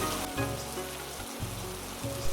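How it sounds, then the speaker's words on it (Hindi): Heavy rain falls outside, a steady dense wash of drops with low rumbling texture running continuously and alone at moderate level. "तभी बाहर तेज बारिश शुरू हो गई थी।"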